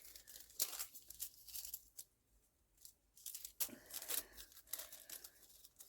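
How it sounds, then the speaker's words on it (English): Collage paper is torn by hand in several short, soft ripping and crinkling bursts, close by and quiet, separated by brief pauses. "I need to cut it down a little bit more, so I'm just going to try and tear it a little bit"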